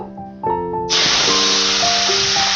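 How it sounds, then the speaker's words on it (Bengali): Katla fish heads dropped into hot oil, setting off a sudden loud, steady sizzling hiss that starts about a second in and holds at full strength, over a faint earlier hum. "এবার আমি তেলের মধ্যে মাছের মাথাগুলো দিয়ে দেব প্রথমে ভাজতে দেব"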